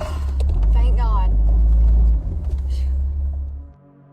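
A car's engine rumbles loud and close, with heavy low-end drone as it pulls away into the night, then drops off sharply near the end; a frightened voice speaks briefly over the engine.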